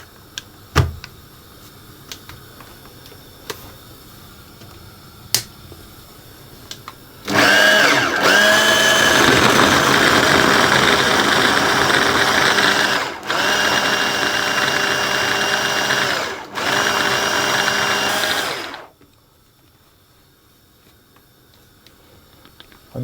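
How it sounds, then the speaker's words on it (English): A food processor pulses butter into a coarse, breadcrumb-like texture while pie pastry is being made. After scattered clicks, the motor whirs loudly in three long bursts separated by short stops, then cuts out into quiet. "I'll pulse it until the butter turns into a sort of coarse sand or a fine breadcrumb like texture"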